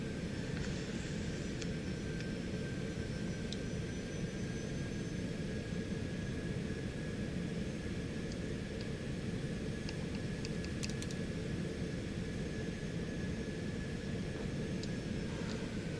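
Steady, broadband roar of a Citation X business jet on final approach in a strong crosswind, heard from inside as a constant engine and airflow drone with a faint high whine throughout.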